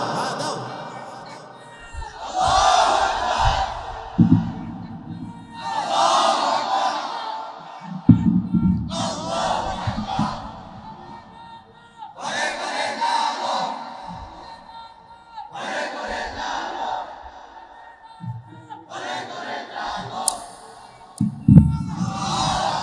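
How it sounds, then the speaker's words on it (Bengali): A large crowd at an Islamic preaching gathering shouts a takbir chant in response to a preacher, several loud call-and-response bursts repeating every few seconds across the stretch, booming and reverberant. "একটা তাকবীর দাও দেখি"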